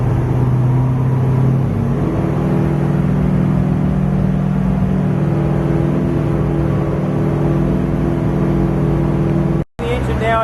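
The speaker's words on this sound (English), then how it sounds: "The engine now at more or less cruise power." A Pratt & Whitney R2800 radial aircraft engine, brand new, running steadily near cruise power, a loud, continuous, close roaring drone with deep throbbing, briefly cutting out near the end.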